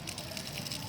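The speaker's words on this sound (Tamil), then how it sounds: "இந்த தண்ணி அங்கே அடிச்சிட்டு இருக்கிறதுனால" Rolling-pipe sprinkler machine spraying water across grass, a continuous hissing spray with a low rumble underneath, steady and close.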